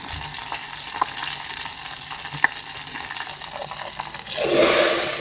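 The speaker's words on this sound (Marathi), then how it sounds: "दाळीन तडका दिता आसतना न्ही असो आवाज येयल्यार म्हणल्यार समजूंक जाय दाळ आमची जाला जबरदस्त" Hot tempering (tadka) poured from a small pan into boiled dal erupts into a loud, bubbling sizzle near the end, rising sharply after a low background hiss and lingering as it settles.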